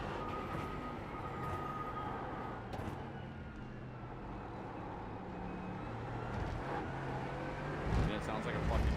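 A GT4 race car in iRacing at Canadian Tire Motorsports Park drones with a steady, rough engine note and shifting pitch, heard under the low rumble of the track and a swell near the end.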